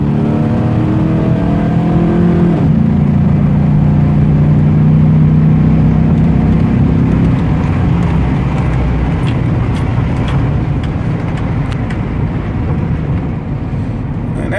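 A cammed, rebuilt 2003 GMC Sierra with a 5.3-litre LS V8 accelerates hard. The loud, steady engine drone climbs in pitch, then drops sharply at each quick upshift before climbing again, heard from inside the truck.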